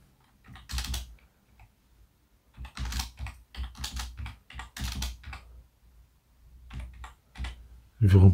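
Computer keyboard typing numbers into a table, a few quick clicks heard under a person speaking French in a close, quiet room.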